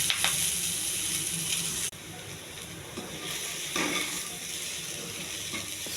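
Soya paneer stir-fried with masala in a pan gives a continuous close sizzle with scraping stir strokes and a sharp clink partway through, and no speech is heard.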